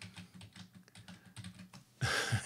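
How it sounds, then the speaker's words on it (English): Fingers tap out a Wi-Fi password on a computer keyboard, producing quiet, close, uneven keystrokes, followed by a brief louder burst of noise at the end. "I just have to type this right."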